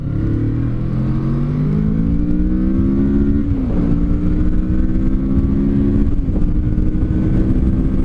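Kawasaki Vulcan S motorcycle accelerating hard, its engine note climbing steadily in pitch with two brief dips at gear changes, loud and close with steady wind rush and no talking.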